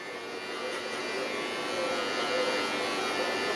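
Electric hair clippers with the lever fully open cut a taper guideline, humming steadily and close with a buzzing, slightly rising drone while someone talks over it.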